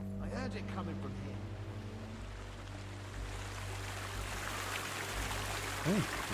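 Running water inside a monastery in Kingdom Come Deliverance II, a steady wash of flowing water under a low hum, with voices and tonal game sounds briefly over it.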